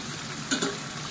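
A spoon stirs tamarind juice lightly into a pan of gutti vankaya (stuffed brinjal) curry, giving two soft, quick scrapes close by over a low, steady simmering hiss. No one speaks.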